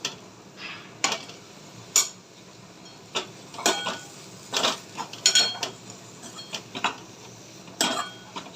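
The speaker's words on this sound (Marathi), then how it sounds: "आणि आता ह्याच्यामध्ये कांदा ॲड करूया आपण" Onion is tipped into bitter gourd sabji seasoned with masala and salt, then stirred in the pan: scattered clinks and scrapes of a spatula against metal, close and moderately loud, with quiet gaps between strokes and no talking.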